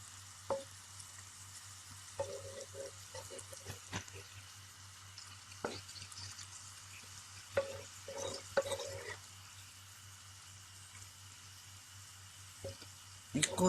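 Purslane with onion and okra sautéing in a pan, a soft steady sizzle with scraping and clinks as the food is turned over, fairly quiet and without speech.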